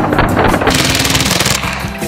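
A very fast semi-automatic open-bolt firearm fires a rapid, continuous string of loud shots at close range, the reports blurring into a steady hammering rhythm for about two seconds with no talking.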